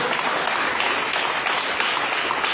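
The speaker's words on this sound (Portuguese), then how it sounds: "Pode aplaudir o Senhor." A church congregation claps during a service, a dense and steady wash of applause that stays loud and even throughout.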